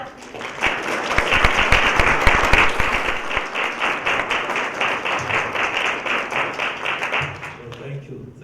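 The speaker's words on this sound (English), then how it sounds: "let's give a round of applause to our speaker development team" An audience at the St Photius Symposium gives a round of applause for the speaker development team; sustained crowd clapping with some distinctly audible individual claps up front, tapering off near the end.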